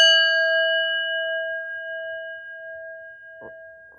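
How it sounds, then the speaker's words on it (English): A single clear strike of a mindfulness bell rings out and sustains with a pure, slowly fading tone; a faint soft knock sounds near the end. "I'll ring the bell after a short amount of time"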